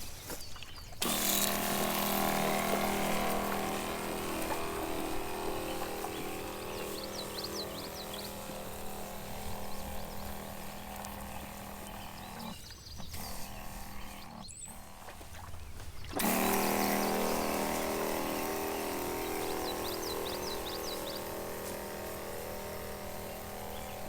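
A pump sprayer hisses steadily as crabgrass herbicide mixed with MSO is misted evenly over a lawn at knee height, a continuous spray broken by two brief pauses near the middle.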